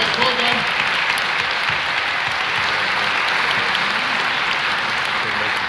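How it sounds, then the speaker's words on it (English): An audience at the Cannes Lions Awards applauds the silver winners with steady, sustained clapping that fills the room, and a presenter's voice is heard over it. "Come on, guys. Round of applause."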